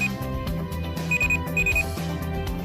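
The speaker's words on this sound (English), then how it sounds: "The alarm starts soft and grows louder for 5 minutes and then shuts off." Medication reminder alarm from a pill box, sounding a steady repeating electronic beeping pattern, moderately loud and alone with no voices.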